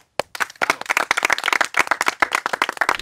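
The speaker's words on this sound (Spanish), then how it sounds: "Top, aplauso." A small group claps hands in a quick, uneven burst, with individual claps clearly separated and close by, starting after a brief silence.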